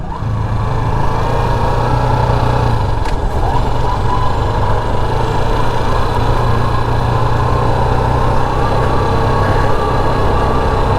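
Motorbikes run on a road near Libmanan Beach in the Philippines, a constant loud engine drone with a steady buzzing hum and wind rush close by, unbroken throughout, with no speech.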